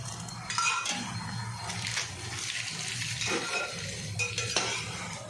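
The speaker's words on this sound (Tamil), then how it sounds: "நல்லா முந்திரியும் திராட்சையும் நல்லா கலர் வந்துட்டுது பொன்னிறமாக." Cashews and raisins fry in ghee until golden for carrot halwa, with a spoon stirring and scraping the pan several times over a continuous soft sizzle, close and alone.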